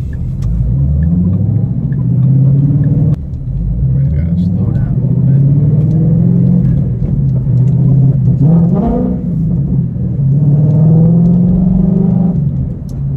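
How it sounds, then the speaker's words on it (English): A 2013 Ford Mustang GT with an aftermarket exhaust, running rich, rumbles steadily and loudly while cruising, with rising revs and brief crackles. "I know that this particular exhaust setup does crackle a little bit"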